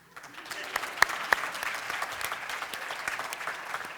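A theatre audience at a stage show claps steadily throughout, with a few sharper individual claps standing out, fairly close and dense.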